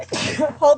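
One short, abrupt sneeze bursts out close by, and a brief spoken word comes right after it.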